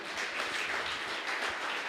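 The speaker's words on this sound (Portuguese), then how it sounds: "Você pode aplaudir o Senhor?" Congregation applauding during a church service, a dense, steady wash of clapping from many hands, moderately loud and continuous with no speech over it.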